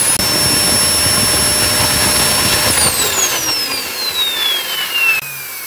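A faulty vacuum cleaner motor runs loud and steady on a test bench, its high whine holding then sliding downward as the motor winds down near the end.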